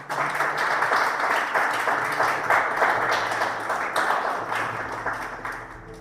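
Steady, loud applause from a church congregation, sustained clapping that slowly tapers toward the end.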